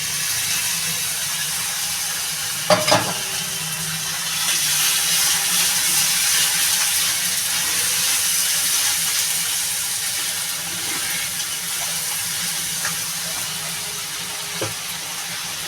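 Grated tomato going into a hot pan of spices for pabda fish curry, giving a loud, steady frying sizzle and hiss with a sharp splattering burst early on and a few light clinks of stirring.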